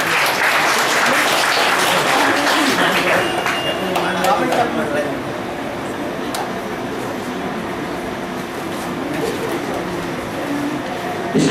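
An audience at a school award ceremony in Chamba, Himachal Pradesh, keeps up loud, sustained applause for a prize winner, with a voice faintly audible beneath the clapping.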